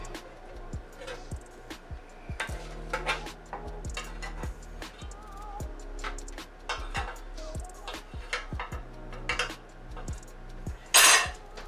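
A knife cuts through baked country cornbread fresh from an air fryer oven, with scattered scraping, tapping and clinking of metal against a pan, light and close, ending in a sharper clatter.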